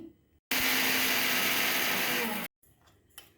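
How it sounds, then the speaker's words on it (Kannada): Mixer grinder pulverising rasam powder spices with turmeric powder and asafoetida, one loud steady whirring burst of about two seconds, with quiet room noise before and after. "ಇದನ್ನ ಇವಾಗ ನಾನು ಪುಡಿ ಮಾಡ್ಕೊತಾ ಇದ್ದೀನಿ."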